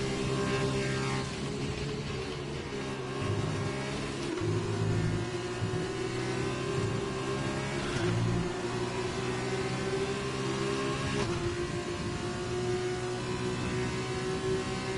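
A single-seater racing car engine in the F1 2020 video game, in an F2 career race, drones steadily at high revs with brief dips at gear shifts, loud and continuous.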